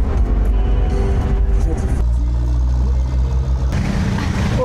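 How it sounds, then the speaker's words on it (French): A jeepney engine runs in the Philippines, a loud, close, steady low rumble and idle that shifts slightly partway through, with no clear speech over it. "C'est bon, on s'est trouvé un jeepney."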